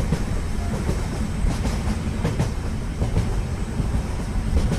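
A cartoon train rolling along railway tracks, its steady rumble and rhythmic clickety-clack of wheels over rail joints filling the scene continuously at close range, with no voices.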